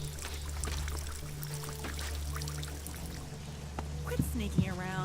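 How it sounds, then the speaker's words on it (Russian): Water pours steadily from a faucet that won't shut off in the game Elex, a continuous running stream that stays at an even level, with a few brief clinks and a voice near the end. "У него кран там вообще не закрывается"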